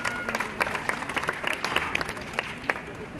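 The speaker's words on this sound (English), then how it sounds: "Let's give Paula a round of applause for that trainer moment" Audience applause at an aquarium dolphin training show, a mid-sized crowd clapping steadily with scattered sharper claps for about three seconds, moderately near and without talk.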